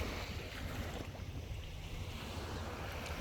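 Sea waves wash steadily against the shore at the seaside, a dense continuous roar and hiss without distinct breaks, loud and close, with no voices.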